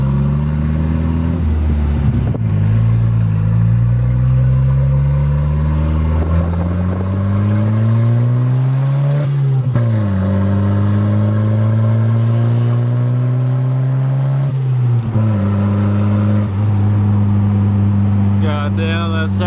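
Drift car engine warming up in cold weather: a loud, close, continuous drone whose pitch rises and falls with repeated blips of the throttle, with one sharper rev near the middle.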